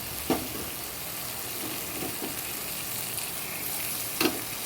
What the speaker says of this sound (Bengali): জিরের গুঁড়ো দিলাম আর এখানে দিচ্ছি মশলা আদা বাটা রসুন বাটা